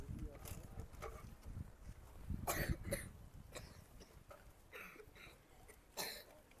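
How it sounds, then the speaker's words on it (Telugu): Several people cough in a crowded indoor gathering of children, with short repeated coughs and throat clearing scattered over background chatter and voices. "ఏంటి కొంచెం దగ్గుతూ ఉన్నారే"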